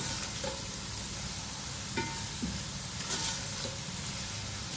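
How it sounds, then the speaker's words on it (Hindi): Garlic ginger paste sizzles steadily in a hot pan of oil with whole cardamom and cinnamon for chicken yakhni pulao, a continuous close frying hiss with a few faint stirring clicks. "to and half table spoon लहसुन अदरक का पेस्ट फ्राई करेंगे"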